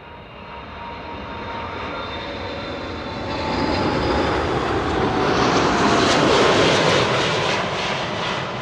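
An airliner roars at Amsterdam Schiphol Airport, its engine noise loud and steady, swelling even louder midway as the aircraft passes close by.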